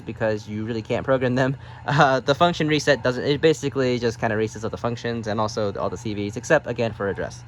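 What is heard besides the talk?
No everyday noise stands out behind the speech.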